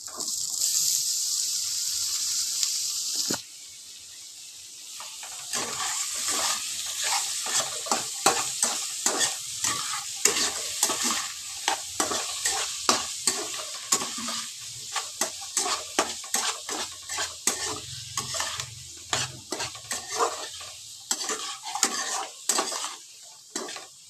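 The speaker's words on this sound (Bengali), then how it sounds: "এবার আমি এর ভেতরে দিয়ে দেবো কেটে রাখা চিকেনগুলো আর আলুগুলোকে দিয়ে দেবো।" Chicken and potato pieces fry with onions in a pan, a loud sizzle followed by frequent scraping stirs and clinks of a spoon against the metal, close and without talk.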